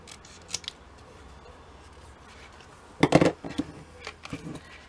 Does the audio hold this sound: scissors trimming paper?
yes